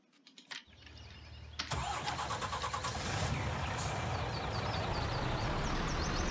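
Tractor engine in the farming game Farming Simulator 19 starts after a few short clicks, then settles into a steady, fairly loud low-pitched idle with mechanical chatter, alone without talk.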